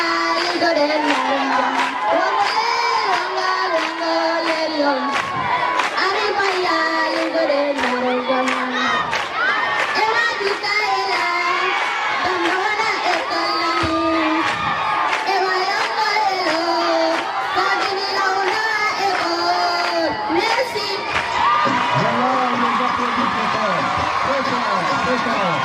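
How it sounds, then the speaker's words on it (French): A large crowd of children at a school event in Moudéry cheers, shouts and applauds loudly and continuously, voices overlapping in a dense, lively roar. "Alors, on les applaudit très fort."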